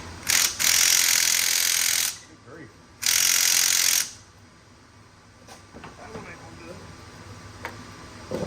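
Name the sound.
loosening over-tightened glow plugs on OBS 7.3 Powerstroke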